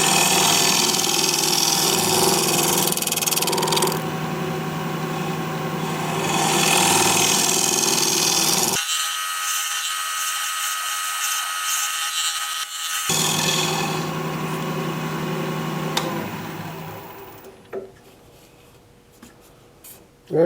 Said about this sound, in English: We'll try my 1-inch scraper here.